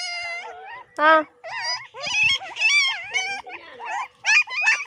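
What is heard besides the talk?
puppies whimpering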